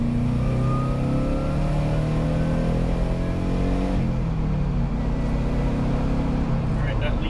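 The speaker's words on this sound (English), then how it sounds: "let's see if we can get a second gear pull in here." A turbocharged Loyale car pulls hard through second gear, its loud engine drone climbing steadily in pitch over several seconds before easing off near the end, heard close from inside the car.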